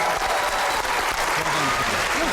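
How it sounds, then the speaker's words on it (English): A studio audience claps for magicians in a dense, steady burst of applause that fills the short stretch, with a faint voice murmuring underneath. "Give Barry and Stuart and Sean a fantastic round of applause."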